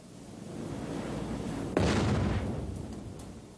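A balloon filled with hydrogen and oxygen ignites in one sudden sharp bang, cutting through a steady background hiss and then rumbling away over the next couple of seconds.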